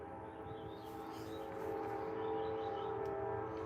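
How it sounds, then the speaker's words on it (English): Train horn blowing as a train passes, a steady, sustained multi-tone blast over the low rumble of rolling railcars, growing slightly louder across a few seconds with no one speaking. "Train horn sounds off as I'm saying that."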